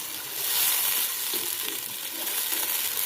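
Meat fries in hot oil in a pot for rice pilaf, a continuous close crackling sizzle that swells slightly early on, with light stirring and no voices.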